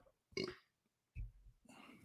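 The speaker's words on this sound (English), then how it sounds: "I didn't mean to burp in the mic." A man burps loudly right into a close microphone, a short throaty belch followed by a second lower rumble and a brief breathy trail.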